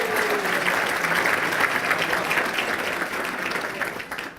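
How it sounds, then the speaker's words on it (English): A room full of people at a Holiday Inn claps loudly and steadily for a mayor's state of the city address, the applause holding for several seconds before beginning to taper off. "So how about a round of applause?"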